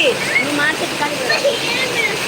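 Steady rain falling in a garden during the rainy season, a constant close hiss over a short stretch, with a voice speaking over it.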